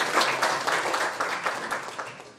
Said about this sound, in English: Can we have a round of applause for Padmavati?